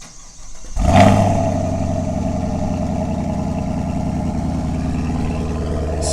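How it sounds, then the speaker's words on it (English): A 2SS Camaro's engine cranks on a cold start and fires up with a loud burst in sport mode, then settles into a steady, rumbling idle through the exhaust. "Going to get some footage of a cold start so we can hear the exhaust."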